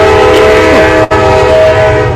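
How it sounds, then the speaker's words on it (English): A train horn blares loud and steady, with sustained harmonic tones, as a train arrives, broken by one brief cut near the middle. "We have the train. All aboard."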